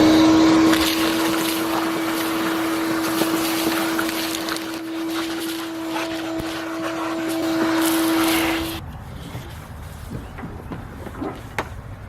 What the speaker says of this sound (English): we're gonna use the vacuum and vacuum out all the dirt on the bottom